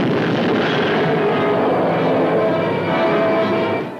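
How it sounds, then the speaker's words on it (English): A diving airplane sound effect from an old radio trailer: a loud, sustained engine drone with a slowly shifting pitch fills the whole stretch alone, then fades slightly at the end. "Suddenly, a plane dives to death."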